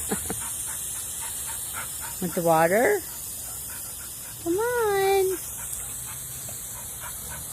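A puppy plays with a garden hose outdoors, giving two short whining, bark-like yelps between stretches of panting, while people talk and coax it throughout.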